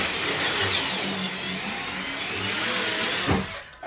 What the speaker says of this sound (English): begin pre-drilling all of my holes